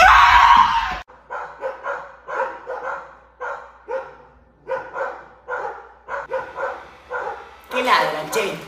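A dog barks in repeated sharp bursts, about a dozen steady barks close by in a home, following a loud burst of other noise at the start.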